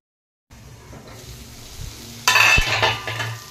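Thick mashed taro leaf being stirred in a pan as it starts catching on the bottom, a soft simmering bubble joined by sharp clinks and scraping of a metal spatula against the pan, close and fairly loud.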